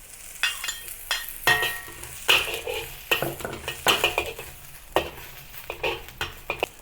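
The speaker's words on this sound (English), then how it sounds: "Now add the dried chilies to the peppercorn infused oil and also the white part of the green onions." Dried chilies and the white part of green onions fry in peppercorn-infused oil in a wok, loud crackling sizzle broken by repeated close scraping stirs of a spatula, no talking.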